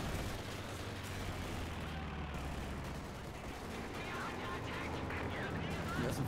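Gunfire and explosions fill a WWII strategy game battle as a dense, continuous roar of weapons with steady loudness and no pauses.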